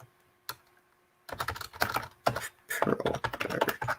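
Rapid typing on a computer keyboard while searching in a query tool, close and crisp, with one isolated keystroke followed by a dense burst of clattering keys.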